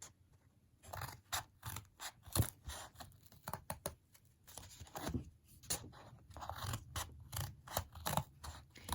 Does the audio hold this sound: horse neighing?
no